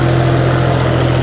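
A John Deere 5210 tractor engine idles with a steady, loud, low throbbing hum, even and unbroken throughout, heard close with no voices.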